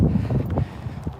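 Wind gusting outdoors in an apple orchard in bloom on a cold day, a loud, continuous low rumble of buffeting against the microphone with no talk.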